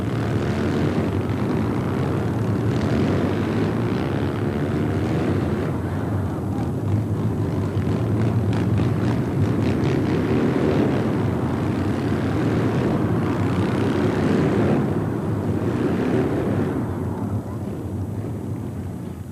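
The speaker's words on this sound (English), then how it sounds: "They drive a fleet of Triumph twin 750s. Noisy things, aren't they?" A fleet of Triumph twin 750 motorcycles ridden by the Royal Marines White Helmets display team at the 1987 Royal Tournament produces a steady, droning engine roar that holds at a fairly even level for the whole stretch, with some wind buffeting.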